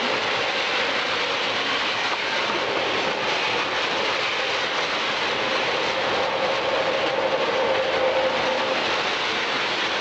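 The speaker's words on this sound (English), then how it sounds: "That is a G-gauge train, and that's even larger than the O-gauge." A large G-gauge model train runs along its track at a museum depot, a steady rolling rumble and clatter that stays fairly loud and continuous with no voices.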